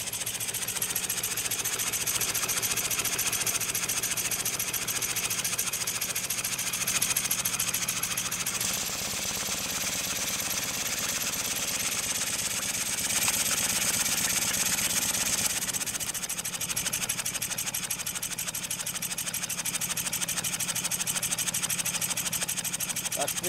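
An upright single-cylinder steam engine, similar to a Hasbrouck #10, runs at minimal cutoff on about 2 bar steam chest pressure, giving a fast, even mechanical chuff and clatter that stays steady and fairly quiet throughout.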